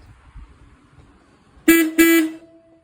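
Two short, loud honks from the horn of an old Mopar car sound close by after a faint rustle of handling; the second blast runs a little longer than the first.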